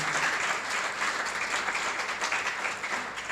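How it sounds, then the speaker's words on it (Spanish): Church congregation clapping in loud, steady, dense applause throughout, close and continuous with no break. "denle un fuerte aplauso para la gloria del Señor"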